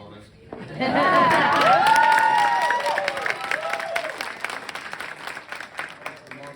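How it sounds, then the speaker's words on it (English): An audience claps and cheers loudly after a band performance with a trombone section, the applause swelling over the first few seconds and then tapering into scattered clapping as voices call out. "Most applause I've gotten in 2 years."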